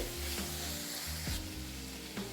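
A spice mixture frying in a pan for a Bengali vegetarian dish, a low, continuous sizzle with faint stirring scrapes and a brief tonal whoosh, quiet and without speech.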